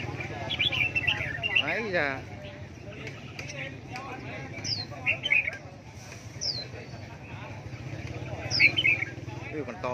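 Red-whiskered bulbuls in cages at a songbird market give short, high chirps and whistled phrases in scattered bursts, heard under nearby conversation.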